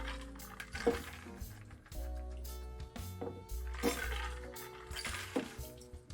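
A shaken Old Fashioned cocktail pours into glasses at close range in a steady liquid stream with a few soft clinks, over faint background music.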